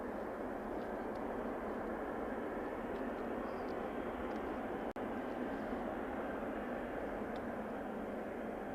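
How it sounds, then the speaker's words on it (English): An Air Canada Boeing 777-300 airliner lines up on the runway at Toronto Pearson Airport at night, a steady, distant engine roar that holds even and continuous throughout, with no voices. "Air Canada 125 heavy lining up next. That's headed to Vancouver, 777-300."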